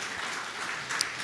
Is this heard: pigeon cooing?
no